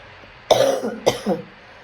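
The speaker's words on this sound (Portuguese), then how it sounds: "Desculpa, eu estou com uma tosse horrorosa." Two quick, harsh coughs close to the microphone, the second a little weaker, with quiet in between and after.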